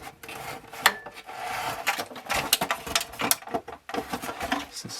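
The plastic casing of an Epson ET-2710 printer is pried apart, giving irregular clicks, snaps and scraping rattles in bursts, fairly close and moderately loud, with no talking.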